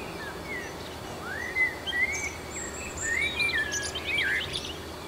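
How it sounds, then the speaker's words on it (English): Birds whistle outside in the morning, a series of rising and sliding clear whistles and chirps at moderate distance over a steady background hum of insects, with no talking. "listening to them birds whistle"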